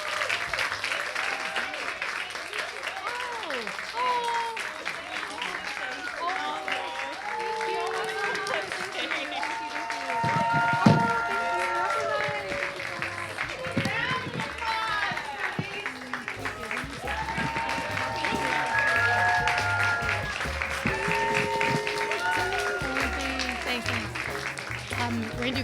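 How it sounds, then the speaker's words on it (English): Audience applause after a Saturday event, steady sustained clapping mixed with crowd chatter and background voices throughout, with a brief louder burst midway. "Can we give them one more round of applause?"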